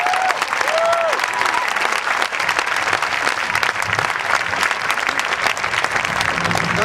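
Loud, sustained crowd applause at a political rally in Columbus, dense clapping with scattered shouts and whistles, continuous and close throughout.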